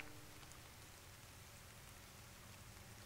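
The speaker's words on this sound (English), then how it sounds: "You can hear the sprinkling of the rain, but that's pretty much the only audio." Light rain sprinkles steadily at the edge of deep woods, a soft even hiss of drops with no other sounds, faint and constant throughout.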